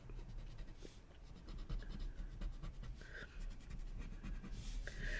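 A graphite pencil scratches across paper while shading a Zentangle drawing, with quiet, close, steady short strokes and faint scribbling, soft and low throughout.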